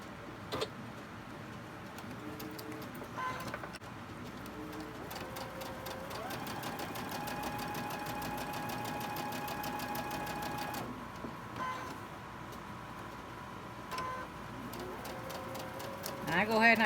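A sewing machine stitches a quilt block and runs off the fabric edge, a steady motor hum lasting several seconds in the middle, with quieter starts and stops around it.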